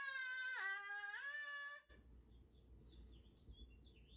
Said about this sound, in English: There's also birds out on the porch being really loud.